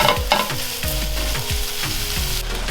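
Beef mince sizzles loudly in a hot pan on the stove, with repeated scraping and knocking as a utensil breaks it up and stirs it. The frying is constant and near, with no voices.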